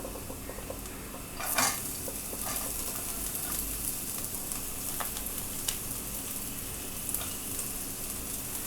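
Chopped onions sizzle steadily in a hot pan while being stirred, with occasional scrapes and clinks of the utensil against the pan, for a masala vegetable macaroni dish; no talking.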